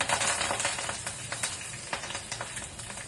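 Mustard seeds, green chillies, dried red chillies and curry leaves sizzle steadily in hot oil for atukula pulihara, a dense crackling hiss with scattered pops throughout, close and fairly loud with no talking.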